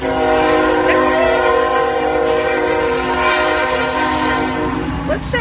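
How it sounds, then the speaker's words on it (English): A cargo train passes through Hillsboro, Texas, sounding a loud, sustained horn over a heavy continuous rumble and rattle of cars, close and steady throughout. "Let's watch the train go by."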